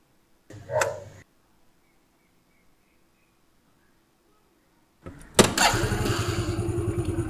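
A motorcycle engine starts: a short cranking burst, a silent pause, then the engine catches and settles into a steady, loud, close idle.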